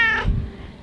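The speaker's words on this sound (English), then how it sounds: "We have a cat" A cat gives a single short, loud meow close by, a brief tonal cry that fades into low room noise.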